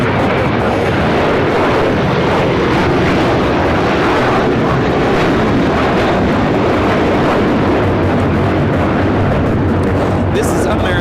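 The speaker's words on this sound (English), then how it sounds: "This is American Airlines 1024 taking off to Orlando, Florida on the A321" American Airlines A321 airliner taking off, a loud, continuous broadband engine roar that stays heavy and unbroken throughout, heard nearby in the open air.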